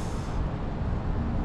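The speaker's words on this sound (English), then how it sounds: "Bus." A bus passes on a rain-soaked road during an August monsoon, its rushing hiss of tires and brakes steady and fairly loud with no pauses, no voices over it.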